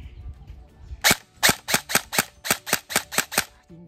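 An MK18 MOD1 blowback electric airsoft rifle fires semi-auto: about nine sharp, evenly spaced cracking shots, each with a snappy bolt clack, loud and close, with no talking.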